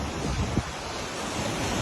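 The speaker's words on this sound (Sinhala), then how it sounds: "මේ හොඳම වතුර පාරක් මේ යන්නේ මෙතනින් එහාට" Broken road bridge near the Moragahakanda dam in Sri Lanka, with river water rushing hard past it after heavy rain: a loud, steady broadband roar of torrent and wind with no gaps.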